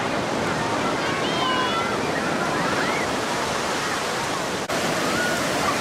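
Ocean waves breaking on a beach give a loud, constant roaring wash, with faint high whistles or shouts from a crowd of young people near the water.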